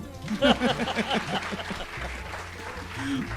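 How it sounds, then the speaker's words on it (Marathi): An audience at an interview event breaks into applause, the clapping mixed with voices and a bit of laughter close by. "अरे टाळ्या वाजवा यार"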